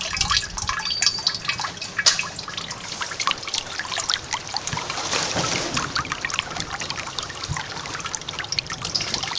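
Water pumped into an ebb and flow grow table trickles and splashes steadily, a continuous close-up rushing dribble with no talking.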